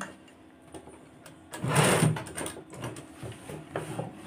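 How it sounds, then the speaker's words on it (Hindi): A sewing machine stitches a collar onto a girl's top, running in a short loud burst of mechanical whirring and clicking, then continuing more quietly in softer intermittent runs. "अब इस तरह से एक पैर की दूरी पर सिलाई लगाते जाएंगे यहाँ से"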